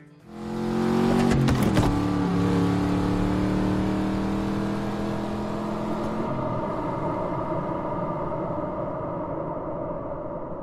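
Race car engine from the film Ford v Ferrari's sound mix, played in a Dolby Atmos room: a loud, sustained engine roar that climbs in pitch as it revs, then settles into a steady, droning high-speed whine.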